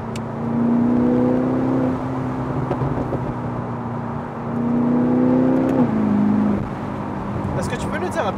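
BMW M6 with 560 horsepower on the road, steady engine drone rising in two acceleration pulls with gear changes, heard from inside under a person talking.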